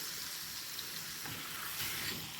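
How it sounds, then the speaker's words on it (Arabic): Meat and onions frying in a pan for a tajine, a soft steady sizzle with a few faint stirring scrapes, quiet and close. "غادي نغلق عليهم ونخليهم يتقلاو ليا واحد شويه"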